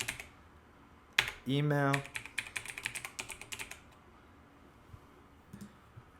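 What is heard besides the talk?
typing on a computer keyboard to fill in a form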